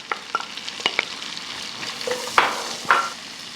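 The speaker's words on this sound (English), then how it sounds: "So the pancetta is happily sizzling away." Pancetta and onions cook in butter in a pan, with a soft, faint sizzle under a series of sharp scraping stirs and clinks from a utensil.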